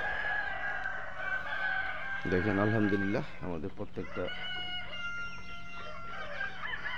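Forty-four-day-old layer hens on a farm in Thakurgaon on a cold day cluck and chatter continuously nearby, with a rooster-like call rising among them while someone talks over the flock.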